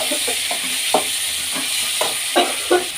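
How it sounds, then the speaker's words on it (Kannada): Raw green tomatoes frying in a pan with ginger and garlic: a soft sizzling hiss beneath a series of separate stirring scrapes, about one every half second, heard close. "ಕಾಯಿ ಟೊಮೊಟೊ ಚೆನ್ನಾಗಿ ಕಾಯಿ ಟೊಮೊಟೊನ ಫ್ರೈ ಮಾಡ್ಕೊಳ್ಳೋಣ"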